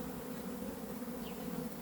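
Steady, continuous hum of a honeybee swarm during a swarm capture, dense and unbroken buzzing of many bees at moderate distance, with no voices.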